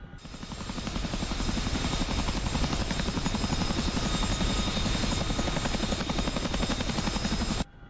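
CH-47F Chinook tandem-rotor helicopter in the DCS flight simulator, its rotors beating in a rapid steady rhythm that swells in over the first second, holds loud and even, then cuts off abruptly.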